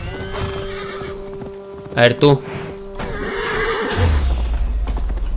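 A horse whinnies loudly in Assassin's Creed Valhalla, a sharp neigh in the middle followed by heavy hoofbeats drawing close near the end, while someone talks over the game audio.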